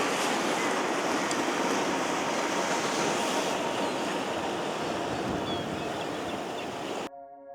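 Ocean waves crashing on a beach along the Connecticut coast make a steady, full roar of surf with wind noise that holds for several seconds, then cuts off abruptly near the end.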